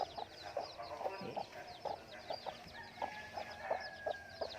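Chickens cluck repeatedly in a coop where young birds are penned, short rhythmic clucks spaced through the clip with a steady bed of faint chirping fowl around them, fairly close and without talk.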